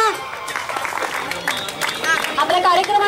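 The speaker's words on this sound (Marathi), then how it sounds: "मग तशा जोरात टाळ्या वाजवा." A crowd gathered for a Republic Day skating record event in Satara claps in a scattered, uneven patter, mixed with murmuring voices and a nearby speaker talking over it.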